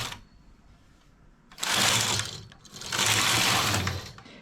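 A domestic knitting machine carriage swooshes across the needle bed in two long passes, each a loud rasping, clattering sweep lasting about a second, separated by a brief quiet pause.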